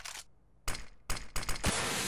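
A smoke grenade thrown and bursting in CS:GO on the Mirage map: a short throw noise, a gap, then sharp bursts ending in a sustained broadband hiss as the smoke pours out, loud and close with no talk.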